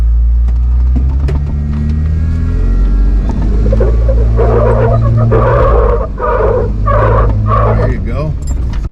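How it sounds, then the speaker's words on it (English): Jeep in 2-wheel drive grinding up a steep rocky off-road slope on an overland route near Moab, a loud steady engine drone with straining, shifting pitch, and people talking over it throughout. "my Jeep was still in 2-wheel drive during that steep climb"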